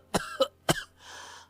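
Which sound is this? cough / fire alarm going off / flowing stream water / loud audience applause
cough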